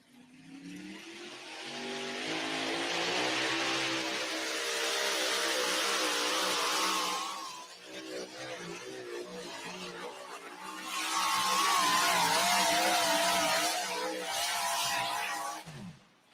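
An orange Farmall pulling tractor roars at a tractor pull, its engine loud and sustained with rising pitch. It eases off midway, surges loud again, then cuts off abruptly at the end, with faint voices underneath.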